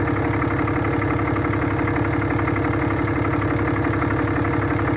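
A 6.7L Cummins diesel engine in a 2008 Dodge Ram 2500 pickup idles steadily and loudly up close, a constant rumbling knock with even rhythm and no voices.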